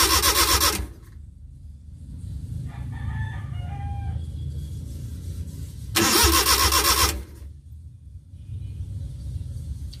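An F5A engine Multicab mini truck with a no-start fault being cranked, with two loud, harsh starter bursts about a second long each, separated by a quieter stretch where a rooster crows in the background.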